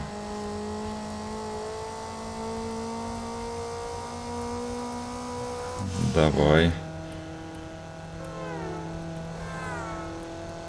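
A car engine strains and whines in the racing game Need for Speed Underground, held at a steady drone, with a short burst of revving mid-way; someone speaks briefly over it.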